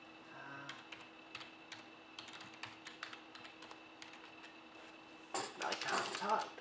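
Typing on a computer keyboard, irregular bursts of light key clicks at close range under a steady hum, followed by louder clattering handling noise near the end.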